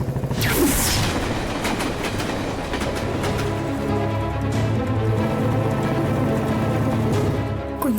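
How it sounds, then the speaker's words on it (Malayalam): A train rumbles close by with a loud, steady roar and rhythmic clickety-clack of wagons passing, with a brief horn-like squeal early and near the end. "ട്രെയിൻ ഇപ്പൊ വരും."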